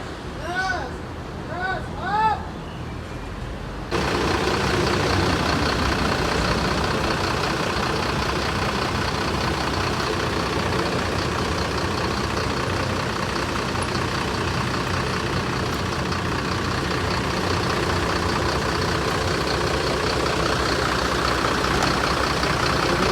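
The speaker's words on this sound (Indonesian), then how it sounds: "Ya, sudah datang bus Batu Mukti Putra satunya." A Batu Mukti Putra big top coach bus engine idles with a steady, loud low drone that runs continuously after brief horn-like tones at the start.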